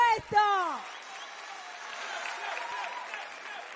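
Audience at a Red Bull Batalla rap battle in Uruguay applauding, a broad steady wash of clapping and crowd noise following a host's shouted announcement at the start.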